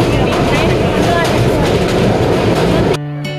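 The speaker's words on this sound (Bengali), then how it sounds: "আমাদের ট্রেন চলে এসেছে ভৈরব স্টেশনে।" A train rumbles and clatters steadily on the rails as it pulls into Bhairab station in Bangladesh, loud and continuous, then the noise drops away abruptly near the end.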